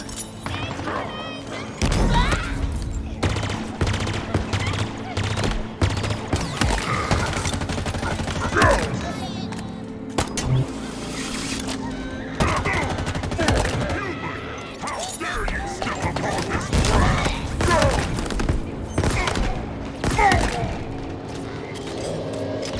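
Assault rifle fire in Halo Infinite comes in loud, close bursts mixed with booms and thuds from a wider firefight, and the shots keep breaking out across the stretch.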